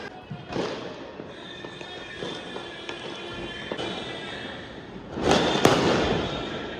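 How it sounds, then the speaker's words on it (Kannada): Fireworks and firecrackers burst outdoors at New Year midnight, with a sharp loud crack early on and a heavier cluster of bangs near the end over a steady background crackle and rumble. "ಹೊರಗೆಲ್ಲ ಫುಲ್ ಪಟಾಕಿ ಎಲ್ಲ ಹೊಡ್ಸಿದ್ದೀರಲ್ಲ"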